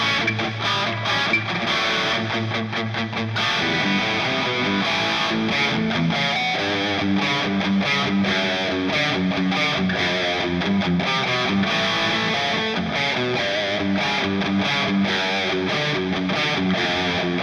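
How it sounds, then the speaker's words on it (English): An electric guitar plays with heavy distortion and delay repeats, a loud dense wall of sound that runs continuously with rhythmic chugging and echoing notes and no voice over it. "Whenever I hear that amount of distortion and those amount of delay repeats"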